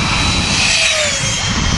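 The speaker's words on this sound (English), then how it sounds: "Flying on a 70mm EDF" A radio-controlled F-18 model jet on a 70mm electric ducted fan flies by outdoors, giving a steady, airy whoosh and high whine that holds at even loudness throughout.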